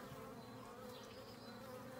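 Honey bees crawling over brood frames in an open horizontal hive give a steady, dense buzzing hum that holds close and constant throughout.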